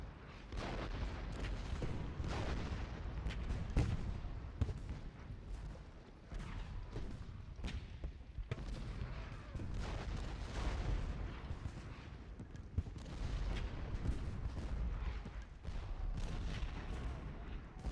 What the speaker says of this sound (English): This really is a sort of a savage artillery duel.